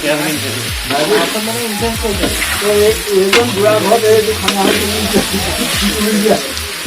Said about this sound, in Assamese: মাংস ভালকে লৰোৱা